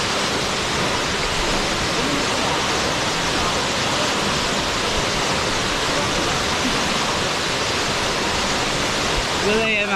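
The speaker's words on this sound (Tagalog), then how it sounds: "Sobrang ganda ng falls. Nakaka-relax yung ingay." Catingas Falls in Romblon roars with a dense, constant rush of falling water, loud and close, filling the whole stretch without a break.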